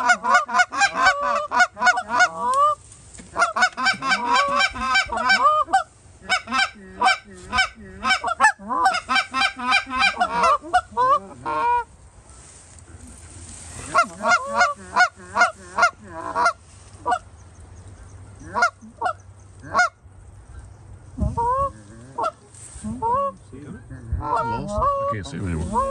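Canada geese honk during a goose hunt, a loud close flock calling in rapid overlapping bursts of repeated harsh honks, with short pauses between volleys and fainter scattered calls in the quieter gaps.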